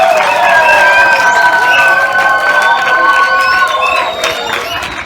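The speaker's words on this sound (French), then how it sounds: "Applaudissez." An audience at an official launch ceremony in Songololo applauds and cheers: continuous crowd clapping with raised voices and shouts on top, loud and fairly close, tapering slightly at the end.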